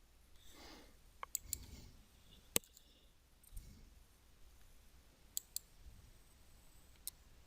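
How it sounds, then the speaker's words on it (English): Computer mouse clicking while building a cart on an online purchasing marketplace: about six sharp, faint clicks, some in quick pairs, scattered over a quiet, hissy background with soft breathing-like noise. "click the Add to Cart button"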